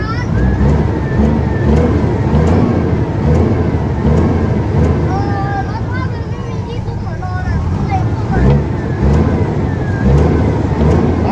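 Car engine revving in bursts at an outdoor field event, loud and continuous with rising and falling pitch, mixed with crowd chatter and voices talking throughout.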